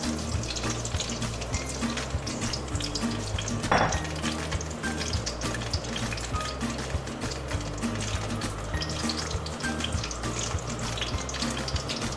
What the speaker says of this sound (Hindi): अब हम इसके अंदर बैगन को फ्राई करेंगे।